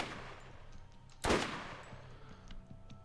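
A Gatling gun fires from a ridge in the Borderlands game Wonderlands, a single loud sharp burst mid-clip over a low rumbling game background.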